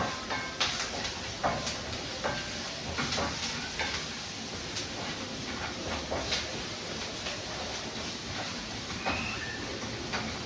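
Sausage and potatoes fry with paprika in a pan, giving a steady sizzle broken by scattered clicks and scrapes of stirring, close and even throughout.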